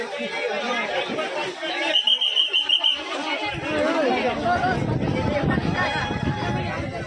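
Dense chatter of a large crowd of pilgrims on the trail to a Mahadev temple on a Shravan Monday, a steady babble of many voices close around, with a brief whistle-like tone partway through.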